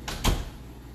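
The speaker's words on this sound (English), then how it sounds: "let me shut the door" A classroom door is pushed shut, giving a quick light latch click followed by a close, dull thump, then quiet room tone.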